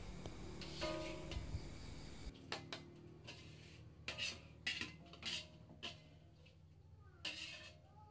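Metal spoon clinks and scrapes against a frying pan in a series of short, uneven strokes while lifting out fried chilies, close by, with quiet kitchen background.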